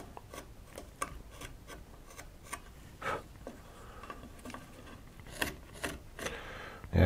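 Knife blade carving into deer antler, a series of faint, irregular scraping and rasping strokes close by, with small clicks between them.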